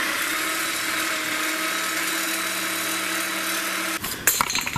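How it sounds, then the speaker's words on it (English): A reciprocating saw cuts through transmission parts on a Chrysler Town & Country in a cramped underside space, a loud steady buzzing drone with harmonic hum for about four seconds, then stopping and giving way to brief clanks and rattles. "cutting this one off with a sawzall because I couldn't get the death wheel"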